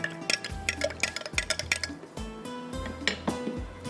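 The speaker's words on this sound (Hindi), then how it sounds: "और चम्मच चलाते जाइएगा ताकि इसमें गाढ़ापन आ जाए" A metal spoon stirs milk thickened with cornflour in a cooking pot, making loud, close, repeated clinks and scrapes against the metal sides in an uneven rhythm.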